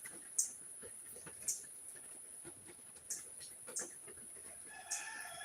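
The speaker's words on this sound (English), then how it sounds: "I hear roosters." Roosters crow faintly in the distance among free-ranging native chickens. Their short calls repeat every second or so against a quiet outdoor background with a steady high insect-like hum.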